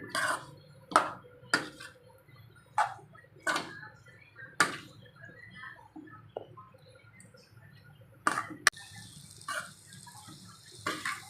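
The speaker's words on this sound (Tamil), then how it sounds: "சேர்த்து இதை நல்லா பிரட்டி விடுவோம்" Mango pickle mixture with asafoetida and spices being turned over in a pan, a series of sharp scraping clinks from a ladle against metal at irregular intervals over a soft background hiss, no talking.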